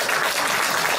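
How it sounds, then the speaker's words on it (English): Audience applause for the two MCs at a community charity gala, a dense, steady wash of clapping across the whole moment with no break. "can I ask you to put up a big round of applause to the two MC of tonight"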